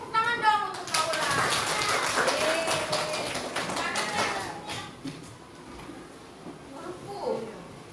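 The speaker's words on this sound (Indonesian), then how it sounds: "Beri tepuk tangan dong untuk Naura." Quick, sharp hand claps from primary school children in a classroom patter near the start, with children's voices talking over and after them as the clapping fades out.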